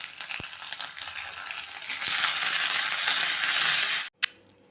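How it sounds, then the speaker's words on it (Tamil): Cumin, curry leaves, coriander and dried chillies fry in hot oil for a sambar tempering, giving a loud, steady close sizzle that swells partway through and then cuts off abruptly near the end. "இப்போ நம்ம கொத்தமல்லியும் காஞ்ச மிளகாயும் போட்டுப்போம்"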